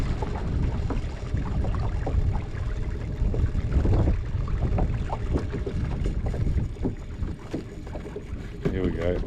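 A Watersnake T24 electric trolling motor pushing a kayak through shallow creek water, heard as a steady low churn mixed with wind buffeting and water noise, with a faint muffled voice.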